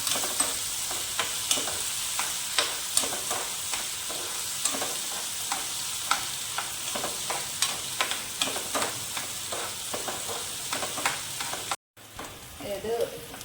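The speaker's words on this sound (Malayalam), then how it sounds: "ഒന്ന് വഴറ്റണം" Turkey berries are sautéed in a pan for pickle, with a steady sizzle under repeated scraping stir strokes in an even rhythm, close and moderately loud, briefly cutting out near the end.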